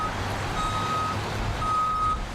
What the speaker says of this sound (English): A tow truck from the Freeway Service Patrol.